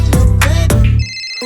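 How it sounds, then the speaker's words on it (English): A phone ringtone sampled in a hip-hop song rings out loud and close, with bright repeated chiming notes over a steady beat before dropping to a thinner high tone. "Phone ringing off the hook"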